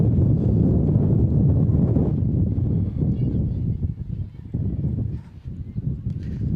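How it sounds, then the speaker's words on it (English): Wind gusts buffet the microphone at an outdoor varsity softball game between Rock Creek and St. Marys, a loud, rumbling, uneven roar that eases off and swells again. "So again, kind of cloudy, kind of windy"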